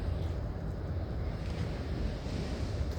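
Wind blows steadily at an outdoor picnic spot and rumbles continuously against the microphone as an unbroken low roar with no pauses, and no one speaks.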